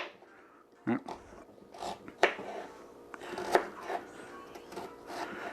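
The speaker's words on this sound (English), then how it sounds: "Then we're just gonna chop downwards, making sure we don't cut all the way through" Knife chopping down through an onion on a cutting board, a few separate sharp knocks spaced irregularly, close and clear, with a person talking between them.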